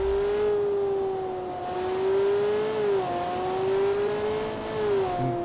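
A car engine in the BeamNG driving game, exported from Automation, runs steadily at high revs with a strong tonal whine that rises and dips as it shifts and brakes, loud and alone throughout.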